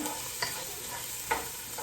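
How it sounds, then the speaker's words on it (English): Half an onion sizzling steadily in a pan, with a couple of soft scraping stirs from a wooden spoon; fairly quiet and close, no talking. "We're gonna start frying this up."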